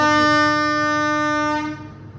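A loud, close train horn sounds as a single sustained blast lasting nearly two seconds, then cuts off and leaves a low rumble of the passing rail traffic.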